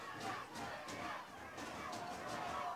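Yale home crowd cheering and shouting at a men's lacrosse game against Brown, a sustained distant roar with a few sharper yells rising and falling.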